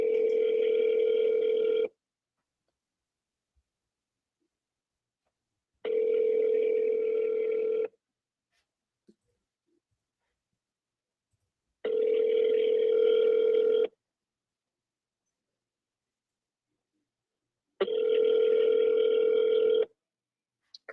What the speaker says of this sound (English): Can you hear the dial tone?